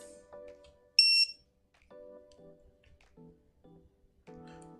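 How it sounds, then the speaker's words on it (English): An FPV receiver's buzzer sounds while the receiver is being flashed: a sharp high beep stands out, with short softer electronic tones and chirps scattered around it in a quiet room. "Oh, this stupid buzzer."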